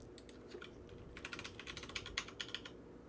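Rapid typing on a computer keyboard, close and clear, with a burst of fast key clicks picking up after the first second over a low background hum.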